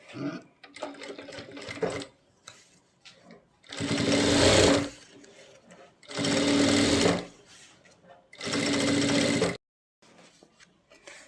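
A sewing machine stitches a deep neckline on a ladies' garment at a beginners' sewing class, running in three long loud bursts separated by pauses, with someone talking quietly between the runs.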